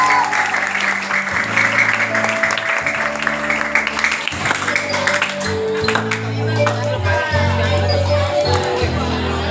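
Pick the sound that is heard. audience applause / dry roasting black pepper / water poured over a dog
audience applause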